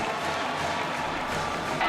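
Applause and cheering fill the Stroh Center arena at Bowling Green, a continuous wash of crowd clapping and voices with a slight swell at the very end.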